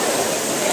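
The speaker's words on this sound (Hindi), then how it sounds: "पानी गिर रहा है पहाड़ के नीचे से" Manjhar Kund waterfall pours down from the hill in a dense, steady roar of falling water, close and loud for the brief moment.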